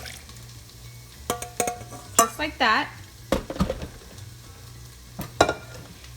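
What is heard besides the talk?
chiles and cooking water poured into a blender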